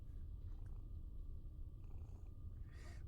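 A cat purrs steadily while lying on a lap, a close, low rumbling hum that runs unbroken for a few seconds, with a faint rustle near the end.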